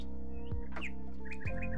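An eagle calls with a few thin chirps and a squawk-like cry, clear and unaccompanied by voices, over a constant low droning background.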